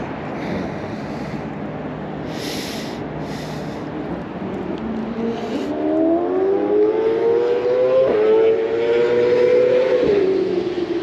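Steady traffic roar from the Bordeaux ring road, loud and continuous, with a rising, wavering horn-like or siren-like tone sliding upward through the second half.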